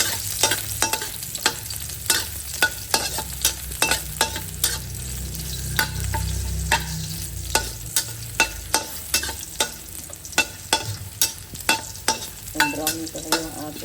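Garlic sizzles in hot oil in a pan while a utensil stirs and scrapes it in a steady series of loud, close clicks and knocks, with no talking.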